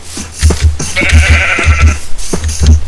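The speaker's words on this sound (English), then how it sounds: "Hello, Mr. Sheep." A loud sheep bleats up close in the Minecraft video game, one wavering call over a rhythmic low thumping background.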